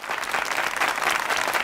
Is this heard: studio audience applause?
yes